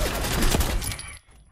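Gunfire from the video game Fallout 4, a loud dense burst of shots over about a second that cuts off abruptly and leaves faint game ambience.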